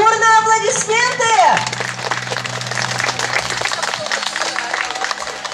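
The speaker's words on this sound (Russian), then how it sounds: "Презентация картины под ваши бурные аплодисменты." An audience claps and applauds at a sea lion show in Krasnodar Safari Park, a dense wash of hands that swells in after a voice and keeps going.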